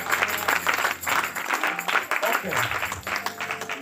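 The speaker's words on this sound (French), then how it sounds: "Acclamons le Seigneur." A church congregation applauding during a closing service of prayer and fasting, a steady wash of many hands clapping close by, with voices mixed in.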